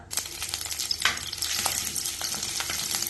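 Loud, steady sizzling of chopped ginger, green chili and curry leaves frying in hot oil, with occasional scraping as they are stirred; no talking.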